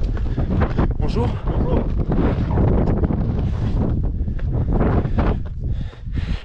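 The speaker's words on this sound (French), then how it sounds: "Là c'est bien, il y a du vent." Strong wind buffets the microphone on the GR20 mountain trail in Corsica, a continuous loud roar with gusty surges throughout, while people talk over it.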